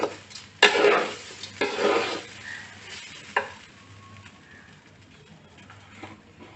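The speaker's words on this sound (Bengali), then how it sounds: "চালটাকে ভেজে নেওয়া হচ্ছে।" Uncooked rice being fried and stirred in a pan, with scraping strokes of the spoon and a soft sizzle that rise in uneven bursts and then settle into a faint hiss, birds cooing quietly nearby.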